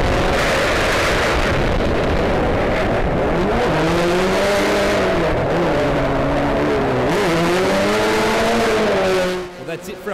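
Nissan S14 and 180SX drift cars racing at the Australian Drifting GP, engines loud and close with rising and falling revs and tire noise that fills the clip, then fades abruptly near the end.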